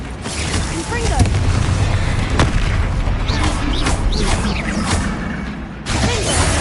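A Confringo spell blast cast against a troll in Hogwarts Legacy: a dense, booming fiery roar with crackling bursts sustained throughout the battle, loud and close, with a brief dip near the end.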